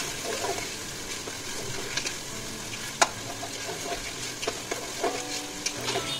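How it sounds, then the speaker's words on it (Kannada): Chopped tomato frying in a pan for vegetable pulao, a steady close sizzle broken by scattered sharp clicks of a spoon stirring against the metal, with no voices. "ಅದು ಚೆನ್ನಾಗಿ ಫ್ರೈ ಆದಮೇಲೆ ಈಗ ಟೊಮೆಟೊ ಹಾಕ್ಕೊಂಡಿದ್ದೀನಿ"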